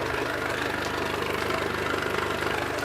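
An outboard motor idles steadily during a flushing routine. The low, even engine hum runs with a faint knocking rumble and no talk over it.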